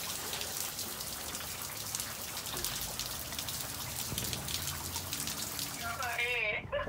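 Steady rain falls and patters on a surface throughout, a dense, even hiss close by, with a brief warbling sound rising near the end.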